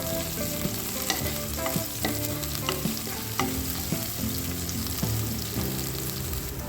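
Shallots and onions sautéing in a pan for a tomato curry, with a continuous sizzle and repeated close spoon scrapes and taps as they are stirred, all under quiet background music.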